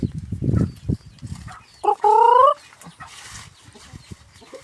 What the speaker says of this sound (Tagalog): Dito, may manok na dito eh.